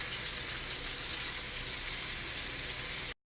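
Food sizzles hard in a hot pan as it is flipped, making a dense, constant frying hiss close by that cuts off abruptly near the end.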